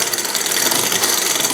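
A broken part scraping against a kids' bike drivetrain as it spins, a continuous close rubbing, grinding whirr with a fast fluttering rhythm and no voices.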